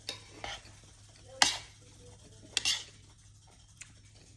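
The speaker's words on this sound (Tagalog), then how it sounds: "Nagprito po kog daing." Dried fish (daing) frying in a pan with a steady close sizzle, broken by a few loud stirring scrapes and clatters of a utensil against the pan.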